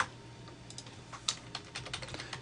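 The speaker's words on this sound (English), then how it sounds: "we will type in here free." Close, fairly quiet typing on a computer keyboard during Photoshop work, a brisk run of light key clicks in an uneven rhythm that gets busier toward the end.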